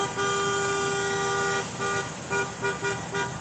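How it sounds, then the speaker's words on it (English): A car horn honks down the street during Ottawa's 2022 trucker convoy protest: one long sustained blast, then several short, separate toots, fairly loud in the open street. "Somebody down the street is honking."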